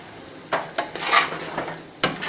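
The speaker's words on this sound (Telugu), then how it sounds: "మళ్ళీ ఆ మిశ్రమాన్ని బాగా కలుపుకోండి." A spoon stirs a biryani mixture with squeezed lemon in a cooking pot, making soft scraping with a few sharp metallic clinks against the pot's side. The clinks are spaced irregularly over a quiet, close background.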